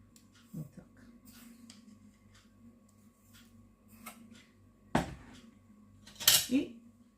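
A spoon stirs sugar into kefir in a bowl, giving a few sharp clinks against the bowl with quiet stretches between them over a low steady hum.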